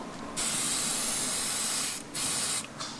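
Pressure hissing out of the pressure accumulator on a Mercedes W211 E500 V8, with loud, steady sprays of escaping air that start and stop in two bursts and a short third one, close up with no talking.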